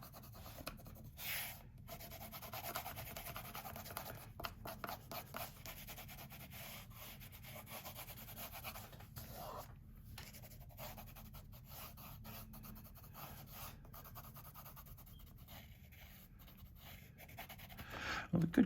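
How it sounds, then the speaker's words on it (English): A pencil scratches and rubs over dry watercolor paper for an ocean landscape in continuous close, soft strokes, quiet and steady with brief pauses. "I'm just penciling over dry paper."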